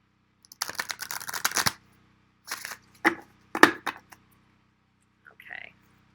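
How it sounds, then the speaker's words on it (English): A deck of oracle cards is shuffled by hand in a few quick, crisp riffling bursts separated by pauses, close and fairly quiet. "going to shuffle on camera."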